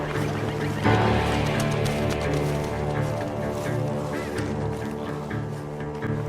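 Video game birds honk and squawk in a harsh, overlapping flock with a steady droning tone underneath, loud and close, and one stronger burst near the start.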